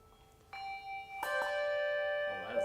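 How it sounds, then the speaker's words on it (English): Handbells ring during a bell choir class, two or three clear struck tones layering into a sustained, shimmering chord, close and moderately loud. "you can play in bell choir."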